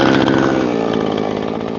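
A Husqvarna chainsaw cuts through logs, its engine droning loud and steady at close range for the whole stretch, with no voices over it.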